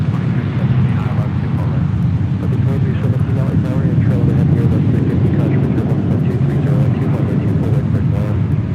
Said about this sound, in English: Flight 8516 heading to Phoenix in that 737-700.